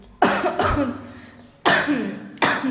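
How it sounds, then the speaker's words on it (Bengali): A person coughs in three loud, harsh bursts with short gaps between them. Each burst is rough and rattling and trails off, and there is no talking. "ভীষণ কাশি হচ্ছে।"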